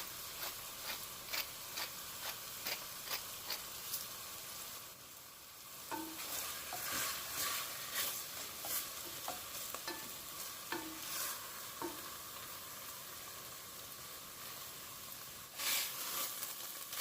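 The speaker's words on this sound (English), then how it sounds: "I am going to brown and sear my meat" Lean chopped steak sizzles while browning and searing in olive oil in a pot, a steady close hiss broken by repeated scrapes and clicks of stirring.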